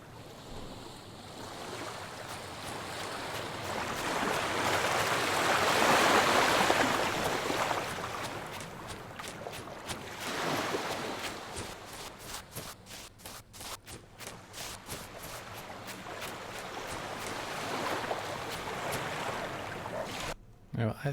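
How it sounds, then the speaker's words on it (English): A game sea ambience sound effect in Unreal Engine: broad ocean surf washing in swells with wind, rising and falling in waves, fairly loud and steady throughout. "the actual sea sound is a bit loud"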